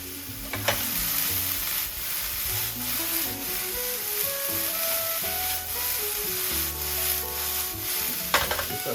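Vegetables for a vegetarian quiche cook gently over lowered heat, giving a low, steady sizzle with occasional utensil knocks and stirs. Faint background music plays throughout.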